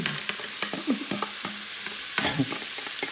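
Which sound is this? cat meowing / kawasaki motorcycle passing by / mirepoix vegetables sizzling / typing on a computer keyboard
mirepoix vegetables sizzling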